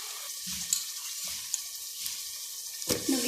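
Drumsticks dropped into sizzling sambar masala in a pan, a steady hiss and crackle with a few soft low thumps of pieces landing and a louder clatter near the end.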